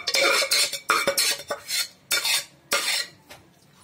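A spoon scrapes and clatters in a metal pot, mixing boiled lentils with chopped vegetables for Tamil mixed vegetable rice, in loud, close bursts of stirring separated by short pauses, with no voices.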